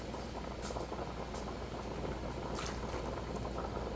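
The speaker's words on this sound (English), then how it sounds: "I'm going to put a couple of ladlefuls of this starchy pasta water in here." A pot of starchy pasta water at a rolling boil, with water being ladled out into a pan, makes a close, steady, dense bubbling hiss that runs without pause throughout, with no talking.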